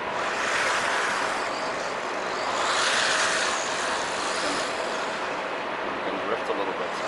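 A fast WLToys 144001 RC car speeds along outdoors, making a steady loud rushing whir that swells and eases slightly as it drives.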